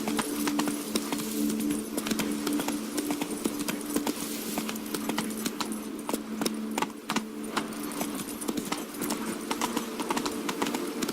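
Hooves of the horse Roach clip-clop steadily in Witcher 3 Blood and Wine, a continuous rhythmic trot with faint jingling tack over quiet background game ambience.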